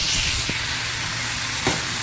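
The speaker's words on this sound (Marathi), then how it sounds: "आपला कांदा टोमॅटो हळूहळू पोळून होत आहे." Onion and tomato frying in a pan while Karandi dried fish is being prepared, giving a steady close sizzle with a couple of faint stirring clicks.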